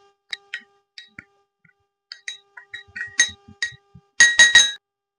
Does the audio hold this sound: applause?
no